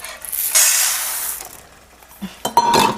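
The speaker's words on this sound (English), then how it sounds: "Next, I'm going to put 2 cups of urad dal." Urad dal is tipped into a pan with roasted dried chilies, a loud rushing pour of lentils followed by clinks and a spoon scraping the metal.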